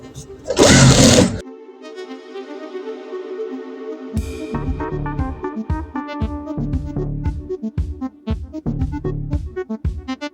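An industrial sewing machine stitches a zip onto a sofa seat. A burst of noise comes first, then a steady whir, then a rapid run of rhythmic stitching thumps.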